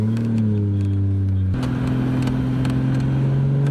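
A Toyota Supra pulls hard in second gear on a short drive with the engine still nearly cold, its steady engine note climbing in pitch, dropping sharply at a shift partway through, then rising again, loud and close.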